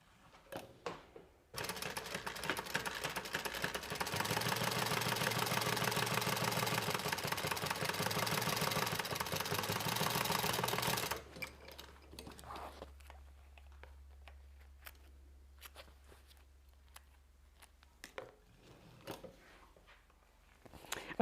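A sewing machine stitches a small fabric bag with lining for a holiday gift, running in one steady, loud whir for about ten seconds before stopping, followed by quieter handling clicks.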